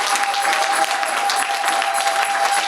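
A church congregation applauds the Lord loudly and continuously, dense steady clapping filling the whole stretch without pause.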